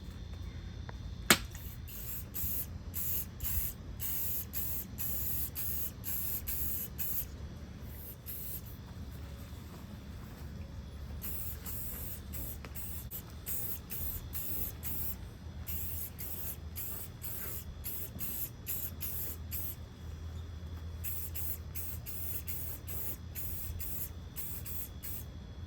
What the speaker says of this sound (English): Now we're gonna go ahead and hit it with a high performance enamel semi-gloss white to make them look a little nicer.